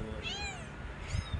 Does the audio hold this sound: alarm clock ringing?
no